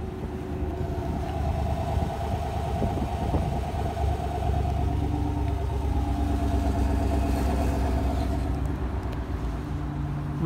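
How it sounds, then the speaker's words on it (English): 2019 Chevy Silverado RST idling at the rear by its chrome dual exhaust tips, a steady low rumbling engine hum close by with no talk. "Show you the exhaust real quick."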